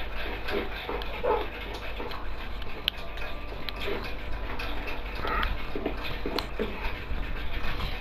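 A dog in the Minecraft video game, with intermittent short barks and whimpers over a steady game background of ticking and ambient sound, moderately loud throughout.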